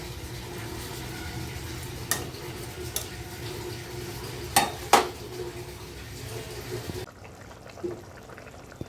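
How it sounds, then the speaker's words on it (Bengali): A pot of Bengali fish curry made with mirgel fish, papaya and potato simmers with a low steady bubbling under occasional clinks of utensils against the pot. It quiets near the end. "বন্ধুরা মাছের ঝোলটা ফুটে গেছে এই যে মাছগুলো দিয়ে দিলাম"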